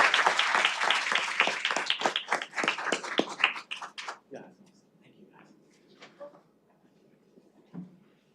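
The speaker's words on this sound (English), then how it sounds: "How about a big round of applause?" An audience at a school award ceremony breaks into loud applause, many hands clapping densely for about four seconds before it thins out into scattered claps and quiet room noise.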